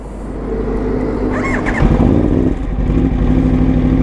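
Aprilia RSV4 RR sport motorcycle with an Arrow exhaust, idling with a deep rumble, then revving sharply around the midpoint and staying throaty and loud.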